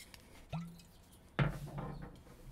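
Whiskey (1856) being poured into a glass: a short liquid trickle and clink, then a fuller splashing pour lasting about a second, close and fairly quiet, with no talking.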